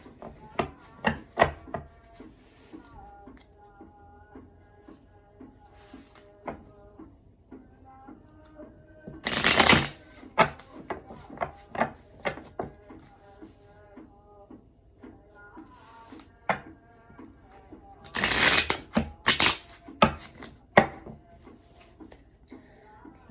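Tarot cards are shuffled by hand in soft rubbing and tapping bursts, with two louder riffles, over faint background music.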